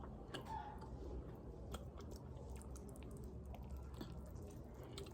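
Someone chews a bite of a homemade burger close up, soft wet squishing and munching sounds repeating steadily under a low, quiet room background.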